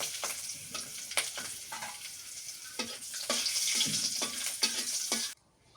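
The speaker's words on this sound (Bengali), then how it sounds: "এবার ভাজি করি রসুন তেলের মধ্যে একটু গরম করে নিই আস্ত রসুন" Whole garlic cloves fry in hot oil, giving a continuous bubbling sizzle with frequent crackling pops that swells louder toward the end, then cuts off abruptly; no voices.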